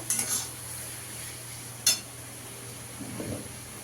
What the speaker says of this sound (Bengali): এবার পটলগুলো দিয়ে দেবো, ভেজে রাখা পটলগুলো দিয়েও ভালো করে একটু কষিয়ে নেব